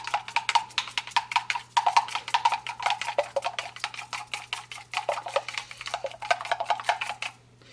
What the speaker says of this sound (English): I'm just going to stir it one more time.